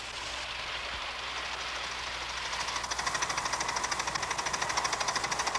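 A small model steam train rumbles along, its steady hiss giving way to a rapid rhythmic chuffing that grows more pronounced as it runs on the track.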